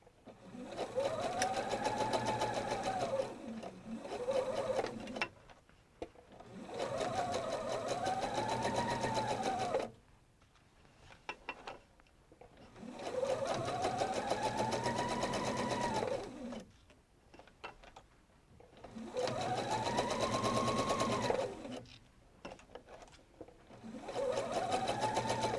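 Sewing machine stitching a patchwork quilt seam, running in four steady bursts of a few seconds each with short pauses between, the motor whirring up and down in pitch; no talking.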